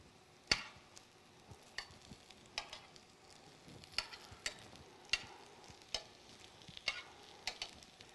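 Thin pumpkin wedges fry in a pan and are turned and mixed. A low sizzle runs throughout, punctuated every half-second or so by crisp clicks and taps of the utensil against the pan.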